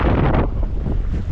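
Wind gusting across a microphone outdoors during ultralight fishing near water, a loud rough rumble that is strongest for the first half second and then eases into a steady lower buffeting.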